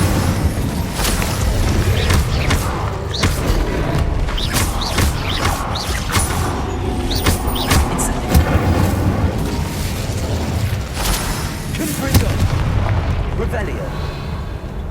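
The Incendio fire spell cast in Hogwarts Legacy throws repeated bursts of crackling, whooshing flame over booming in-game effects, with a voice speaking among the blasts.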